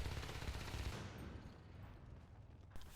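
Gunfire in the video game Natural Selection 2, with several shotguns on the field: a dense burst of rapid shots for about a second, then quieter scattered combat noise and a final sharp shot, all fairly faint.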